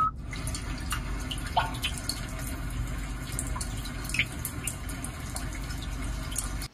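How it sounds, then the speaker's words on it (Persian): Rainy-day nature soundscape played through a 2020 Hyundai Sonata's audio system: steady watery patter with scattered drip-like ticks, even and continuous at moderate level, no voices. "حالا یک روز بارانی که این صدا رو میخواد بده."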